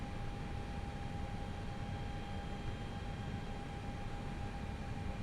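An Airbus A320 or A319 in a flight simulator game gives a constant, even low hum with a steady thin tone above it, unchanging and alone for the whole stretch.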